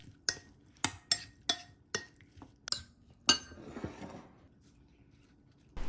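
Utensils clatter and scrape against a bowl in a series of sharp, uneven clinks as a salad of sautéed mushrooms, shrimp, broccoli and sauce is tossed, then a softer stirring rustle.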